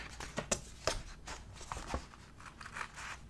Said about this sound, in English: Now I'm just going to take regular scissors and cut these out.